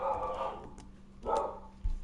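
A dog barks twice, close and fairly loud, with a short gap between the two barks and a faint thump at the end.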